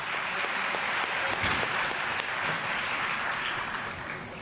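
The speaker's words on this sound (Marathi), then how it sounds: "जरा जोरदार टाळ्या जा पाहिजे आपल्या या प्रमुख अतिथींसाठी" An audience at an event claps for the chief guests in a sustained, even burst of applause lasting several seconds, fairly loud and close, easing slightly toward the end with no speech over it.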